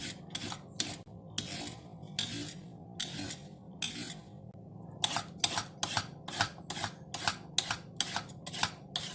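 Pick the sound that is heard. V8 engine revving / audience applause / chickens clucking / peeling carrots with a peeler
peeling carrots with a peeler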